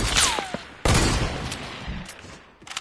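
Gunfire from a weapon in Fortnite Battle Royale, a loud close burst of shots with a bright whistling sweep before it, followed by several sharper scattered cracks, with no talk over it.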